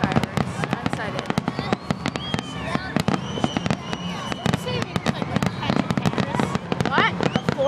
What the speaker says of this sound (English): They look like gay pride fireworks.